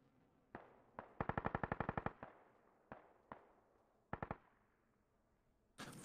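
Video game battle gunfire: scattered single shots and a rapid automatic burst of about a dozen rounds crack out in uneven clusters, with sharp, distant-sounding reports and quiet gaps between them.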